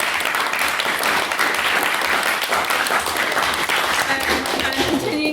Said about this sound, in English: can we get another round of applause for Arj for his maiden speech?